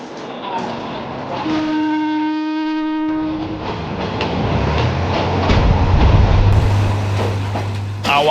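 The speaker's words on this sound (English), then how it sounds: "Our train is very nice, the best train in the world" A passenger train in Myanmar rumbles along loudly, with a long harmonic horn blast early on and steady rolling noise that grows heavier toward the end.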